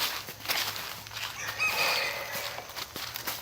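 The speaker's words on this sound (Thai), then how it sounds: "วัดเขาโต๊ะมีไก่ป่า" Wild junglefowl cluck and call near a forest temple in Surin, Thailand. Short, irregular calls sound from a few birds at moderate distance, with faint rustling like footsteps through undergrowth.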